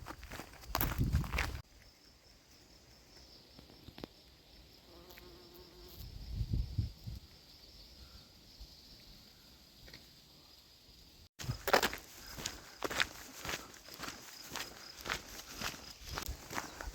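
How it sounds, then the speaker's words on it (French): A bee forages among broom flowers outdoors, its faint buzzing drifting in and out with louder rustling footsteps and handling noises at the start and in a busy stretch near the end. "Abeille qui butine."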